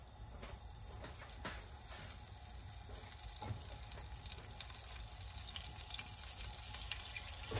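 Butter melting in a pan with a little oil after chicken has cooked, giving a steady soft sizzle and crackle with a few sharp clicks and utensil knocks, close and moderately quiet.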